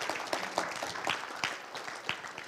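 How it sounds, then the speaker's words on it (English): A church congregation applauds in a steady, moderately distant wash of clapping that holds for a couple of seconds. "Now that's something to give God a round of applause for."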